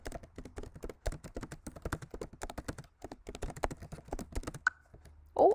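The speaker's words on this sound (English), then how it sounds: "you're going to be typing this down here" Fingers type on a computer keyboard in a quick, irregular stream of close, crisp key clicks with short pauses, ending in a brief electronic tone.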